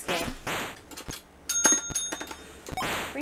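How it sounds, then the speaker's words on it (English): A bright, tinny bell rings in the Atari 2600 game Crackpots, a few distinct close chimes among bursts of electronic game noise. "I'm not the one who rings the bell. You're the one who rings the bell."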